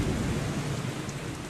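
Steady rain hissing down with a low rumbling undertone, a continuous broadband wash heard alone at moderate level.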